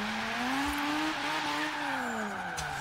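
Cars drifting in the video game Forza Horizon 3, a continuous tire squeal that sweeps and bends in pitch over a steady engine drone, loud and close.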